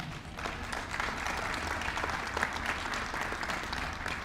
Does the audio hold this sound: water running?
no